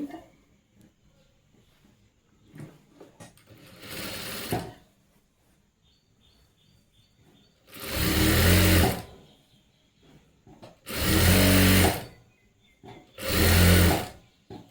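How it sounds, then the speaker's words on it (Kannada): A sewing machine stitches a folded one-inch sleeve hem in four separate bursts of rapid, loud mechanical whirring, each lasting about a second, with quiet handling noises in the pauses between runs. "ಈ ರೀತಿ ಮಡಚಿ ಫೋಲ್ಡ್ ಮಾಡಿಕೊಂಡು ಸ್ಟಿಚ್ ಮಾಡ್ತಾ ಇದ್ದೀನಿ ನೋಡಿ"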